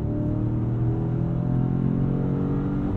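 Manual Dodge Challenger Swinger V8 muscle car engine held against its 6,000 RPM rev limiter, a loud, steady, close droning roar that runs unbroken for about three seconds with no talking.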